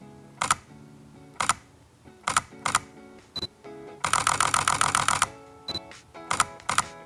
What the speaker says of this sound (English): That was the sound of an RAF photographer's camera shutter.